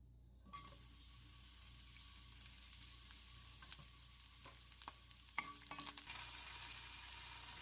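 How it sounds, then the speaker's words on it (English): Vegetables for Korean bibimbap stir-fried in a pan: a continuous close sizzle with repeated scrapes and clacks of stirring, growing busier toward the end, with no talking. "Stir fry vegetable."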